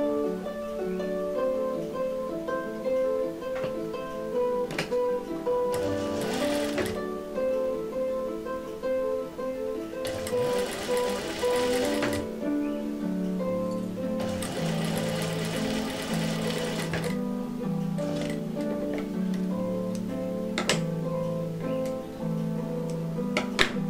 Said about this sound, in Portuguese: Vou costurar esse retângulo aqui embaixo.